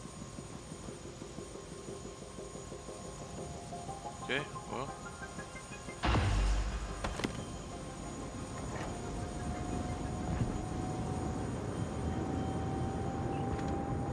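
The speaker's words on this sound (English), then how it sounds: "So I get to take this helicopter?" A helicopter in the video game Prey drones at a steady low hum, with a brief loud thump partway through and faint mechanical tones, while someone speaks a couple of words.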